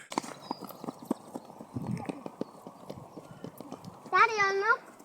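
A horse's hooves clip-clop in a quick, irregular run of sharp knocks close by, with someone talking in the middle and a brief whinny near the end.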